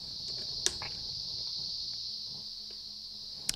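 A steady, high-pitched buzzing drone imitating a cicada, from a synthesizer, continuous, with a couple of brief clicks.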